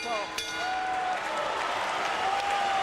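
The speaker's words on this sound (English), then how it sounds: "Crowd cheers" A boxing crowd roars and applauds at the end of a fight in a broad, sustained wash, with a thin whistle-like tone sliding through it.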